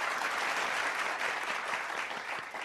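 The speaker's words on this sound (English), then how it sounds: "we're just going to give her a hand clap of praise that she's doing" Audience hand-clap applause rings out as a dense, even wash of many clapping hands, loud and continuous for a couple of seconds with no voices.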